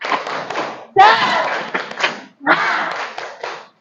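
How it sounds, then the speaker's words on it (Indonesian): Students in a classroom perform the tepuk semangat clap chant, bursts of rhythmic group clapping mixed with children's voices chanting along, in several short phrases separated by brief pauses. "Ya, kita tepuk-tepuk lagi."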